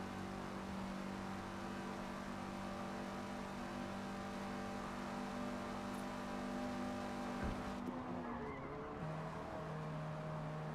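A Toyota Corolla drift car runs at the Nürburgring in a video game, its engine a steady sustained drone with a sharp change in tone near the end as it lets off.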